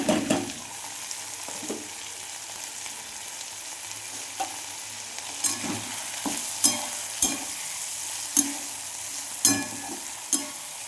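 Dal (lentils) fries in hot oil in a kadai for Bengali khichdi, a continuous sizzle broken by regular sharp scrapes of a spatula stirring, close and moderately loud.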